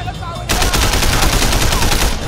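Rapid automatic gunfire in the video game Sleeping Dogs erupts after a half-second lead-in, a loud continuous burst of shots close up.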